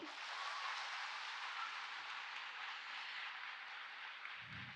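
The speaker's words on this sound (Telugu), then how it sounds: "జెన్యూన్గా మీ చప్పట్ల రూపంలో వినిపించండి నాకు" Audience applause from a large crowd of students at a women's engineering college, dense steady clapping that holds evenly for several seconds, loud and continuous with no talking.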